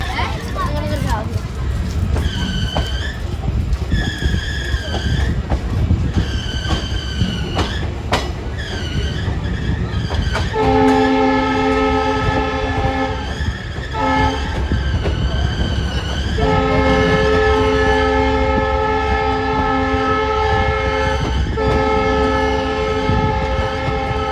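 A passenger train from Bathinda to Shri Ganganagar rumbles along steadily with rhythmic clatter, and a long horn blares repeatedly over the noise of the moving carriages.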